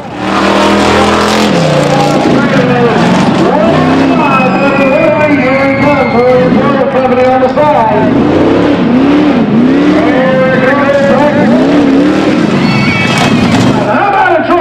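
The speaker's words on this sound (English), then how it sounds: "He brings out a ride truck, and this year we're doing tough trucks." Tough truck competition trucks at a maple festival in Pennsylvania rev and race in a loud continuous roar, engines rising and falling in pitch over a busy crowd with voices and cheering mixed in throughout.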